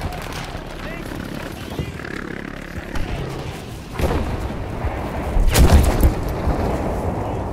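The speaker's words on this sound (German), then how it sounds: "brauchen einen V1 Luftschlag auf diese Position" A V1 airstrike explodes in the World War II shooter Battlefield V, bursting out with a heavy boom through constant battlefield rumble and gunfire. Voices speak over the chaotic game noise throughout.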